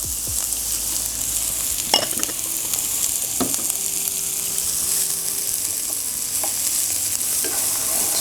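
Garlic and onion frying in a pan for egg fried rice: a steady, close hiss of sizzling oil throughout, broken by a few spatula scrapes and taps as the pieces are stirred.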